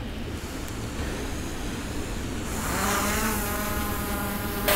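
A PowerEgg X drone fitted with pontoons takes off over water: a steady background whir gives way midway to a louder, rising whine of spinning rotors that holds as it lifts off, with no voices.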